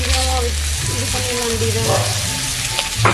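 Fish coated in masala frying on a banana leaf, a steady sizzle running throughout while a person speaks briefly over it.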